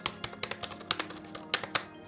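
Keys on a Logitech K380 wireless keyboard tapped in an irregular burst, light clicks with a few sharper, louder strokes, close up and with no talking.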